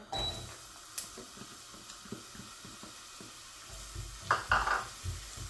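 Soft steady sizzling of onion frying in oil in a pan, with a few clinks of a utensil against metal near the end, no voices.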